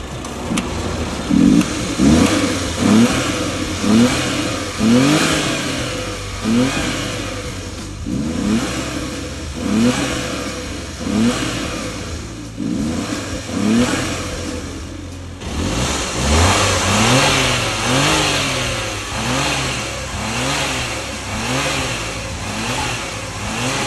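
A car engine, fitted with a modified intake, is revved repeatedly in short bursts, each rising and falling with a throaty intake roar heard from the engine bay, close by and fairly loud.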